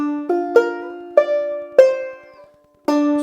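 Close, bright plucked banjo notes form a climbing lick with a slide on the 2nd string, a handful of ringing picks that rise step by step, then a short pause before a final note.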